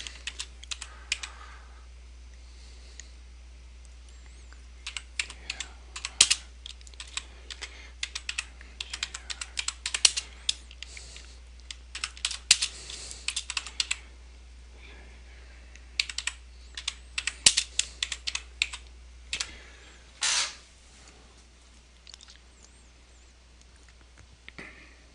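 Text being typed on a computer keyboard while adding words to a banner design, with irregular bursts of quick key clicks and short pauses, close and clear with no talking.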